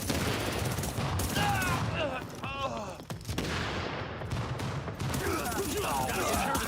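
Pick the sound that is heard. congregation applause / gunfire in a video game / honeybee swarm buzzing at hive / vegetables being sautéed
gunfire in a video game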